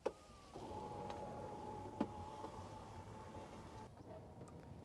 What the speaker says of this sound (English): the entire center console will move backwards until it is positioned between the rear passengers